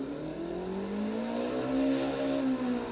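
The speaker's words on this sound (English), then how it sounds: "Let's go and rev it." A sports car engine revs in the Driving Empire driving game, a loud tone climbing and holding across three seconds, close and alone with no talk.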